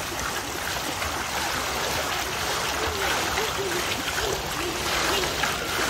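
Water churns and rushes steadily in a jacuzzi-like outdoor pool in summer, a dense continuous wash of bubbling and flowing, with faint voices mixed underneath.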